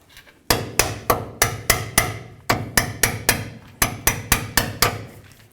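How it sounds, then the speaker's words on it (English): A hammer strikes a chisel to drive the ball joint clip out of a 2007-or-later Toyota Tundra's lower control arm: about fifteen sharp metallic blows in quick groups of four or five, loud and close, no talk. "We're just going to use a little chisel and a hammer and just try to bonk it out of there."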